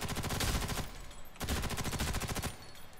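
Rapid automatic gunfire from a video game, two long bursts of fast, even shots with a short break between them, loud and close.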